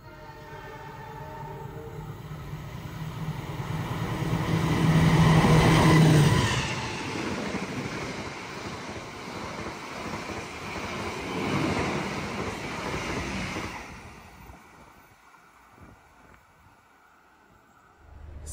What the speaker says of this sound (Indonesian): Kereta api Pasundan yang saya naiki telah tiba di stasiun Sidareja